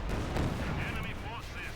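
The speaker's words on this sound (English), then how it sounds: "That Pack 42 is going to land a great hit there on the T-45." A Pak 42 anti-tank gun shell striking a Soviet T-34 tank in Company of Heroes 2, a booming impact within a continuous wash of battlefield gunfire and explosions, with a commentator talking over it.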